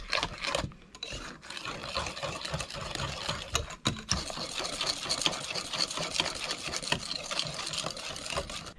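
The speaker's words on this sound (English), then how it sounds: "add the sabayon to the mascarpone and rum mixture and give it a good mix" Mixer blending sabayon into a mascarpone and rum mixture for tiramisu, a soft uneven whirring and scraping that surges and dips throughout, fairly quiet and close, with no talk.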